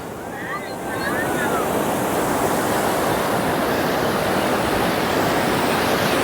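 Surf rolling ashore at Niladri Beach in Puri, a steady loud wash of breaking sea waves with wind noise across the microphone, building in the first second and then continuous.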